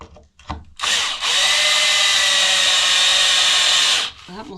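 A power drill drives long reused screws into wood during a cabin repair, running in one loud steady whine for about three seconds after a brief start, then stopping.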